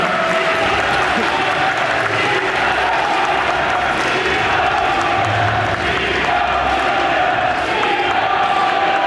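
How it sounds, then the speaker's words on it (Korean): Crowd at a party convention applauding and cheering loudly and continuously, a dense wash of clapping and voices filling the hall with steady intensity throughout. "김영현 의장님이 올라오고 계십니다. 박수 올려주시기 바랍니다."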